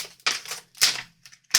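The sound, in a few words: stamping a dahlia image onto paper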